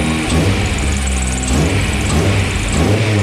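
A car engine starts and settles into a steady, fairly quiet idle with a slight whine from the alternator belt, close and continuous with a few small revs.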